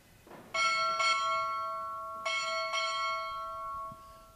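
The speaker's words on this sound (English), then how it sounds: "Strike 4 bells." A ship's bell rings four times in two quick pairs at a Navy boot camp graduation, each strike clear and resonant with a long ringing decay, in a quiet room.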